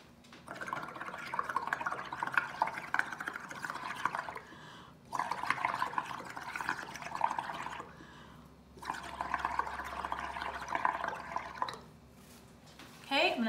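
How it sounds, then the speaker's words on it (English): Bubbles are blown through a green paint mixture with a straw in three long, steady bursts of bubbling gurgle, separated by short pauses, close and fairly loud. "now I am going to blow the bubbles"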